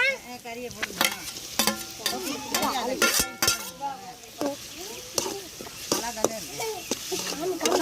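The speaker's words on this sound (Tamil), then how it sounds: "இஞ்சி பூண்டு போட்டு நல்லா வதக்கிக்கோங்க" Ginger and garlic sauté in a pan, with a low sizzle beneath frequent metallic scrapes and clinks of a spoon stirring, while a person talks throughout, the cooking sounds partly masked by the voice.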